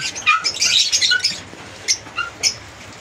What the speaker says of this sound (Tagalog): So tatlo na lang yung kakatail natin.